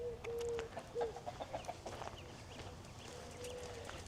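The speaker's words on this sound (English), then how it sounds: "There's several chickens on the property right now." Several chickens cluck and a rooster calls a few times on a luxury estate property in Gilbert, Arizona, the bird sounds fairly near over a soft outdoor background.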